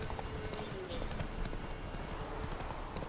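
A horse gallops in The Witcher 3, its quick clip-clop hoofbeats pounding steadily and close over a constant wash of ambient background noise.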